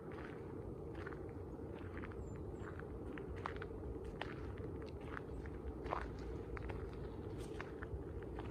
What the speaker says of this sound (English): I listen to the crunching of my footfall